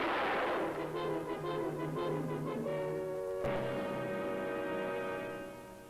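Gunfire from a western film: a rapid series of ringing shots followed by one sharp, louder report with a lingering metallic ring that slowly fades, heard alone without voices.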